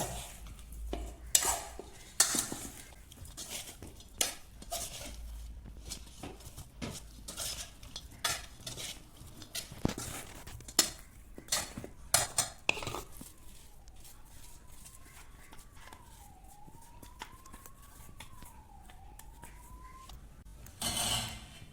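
A spoon mixes food with chutney in a pan for a simple breakfast dish, making repeated scraping and tapping strokes against the metal over a faint sizzle. Midway the stirring thins out and a faint wavering whistle-like tone drifts in before a final burst of scraping.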